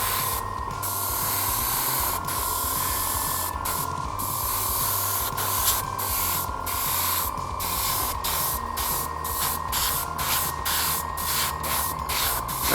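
An airbrush sprays primer in a continuous close hiss with a steady compressor-like hum beneath, broken by short regular pauses as the trigger is released and pressed again.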